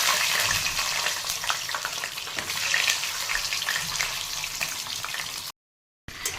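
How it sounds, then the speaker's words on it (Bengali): An egg fries in hot oil in a pan, giving a close, steady hiss and crackle that runs nearly unbroken and then cuts to silence for a moment near the end. "আমি ডিমটাকে হালকা করে একটু ভেজে নেব।"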